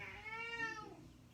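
A domestic cat gives one drawn-out, rising-then-falling meow, fairly faint and close, with no other sounds around it.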